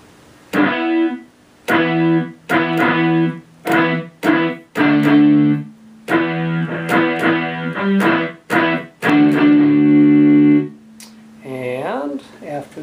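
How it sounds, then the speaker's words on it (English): Overdriven guitar sample from a YRG Gen2 LE plays a string of short choppy chords and notes in uneven rhythm, close and clear, ending with a bending note. "The next guitar sound is an overdrive guitar."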